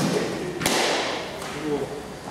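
A sharp, single crack of a cricket bat striking the ball at a club match, followed by a fainter second knock, with people talking around it.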